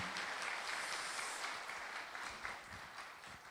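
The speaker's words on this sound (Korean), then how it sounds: "우리 시온성가대 하나님께 영광 돌리면서 격려 박수 한번 해주시기 바랍니다" A church congregation applauds its choir after a hymn, a steady wash of many hands clapping, soft and distant, continuing evenly throughout.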